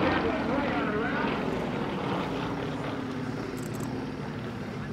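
Propeller aerobatic airplanes fly a line-abreast loop at an air show in Janesville, Wisconsin, a steady droning engine roar that slowly fades while an announcer talks over it.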